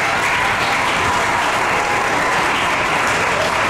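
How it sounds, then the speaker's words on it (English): A school audience gives a loud, sustained round of applause for staff members at an African American history program, a thick continuous wash of clapping with no gaps. "Can you give our staff members a round of applause?"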